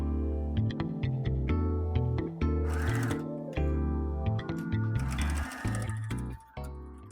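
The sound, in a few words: sewing machine stitching sides of silk robe fabric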